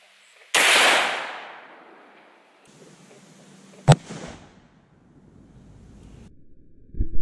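A single sharp gunshot of a lighter weight bullet fired into a gel block, followed by a decaying boom, then a brief crack midway and some faint handling noise at the end.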